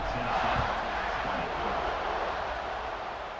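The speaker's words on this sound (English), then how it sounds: "this crowd is buzzing after that last score" Stadium crowd noise from a Tennessee vs Georgia SEC rivalry game in College Football 26, a dense, steady roar that holds loud and even across the whole stretch with no distinct voices standing out.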